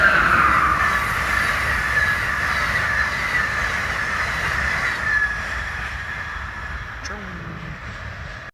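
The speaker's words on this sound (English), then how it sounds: "Oh, another Amtrak." An Amtrak train passes on the four-track Northeast Corridor line, a loud, steady rumble of rolling wheels with a high metallic squeal riding over it for the whole stretch.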